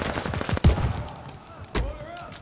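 Mortar shells landing in Call of Duty: Vanguard team deathmatch, two heavy booming impacts with gunfire crackle around them, loud and close, with game voices calling out over the chaos.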